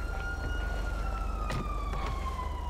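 Police car siren from Grand Theft Auto V, a steady wailing tone held across the short moment, accompanied by a few brief sharper noises and a low engine hum.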